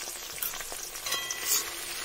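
Spice paste sizzling and frying with tomato in a pan for a Bangladeshi-style fish curry, a steady close hiss with soft stirring scrapes and no talking.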